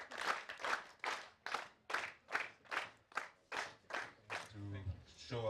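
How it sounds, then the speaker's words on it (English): An audience at a customer meeting claps in a steady rhythmic beat, about a dozen loud unified claps that fade into mixed noise at the end. "Let's give him a real applause."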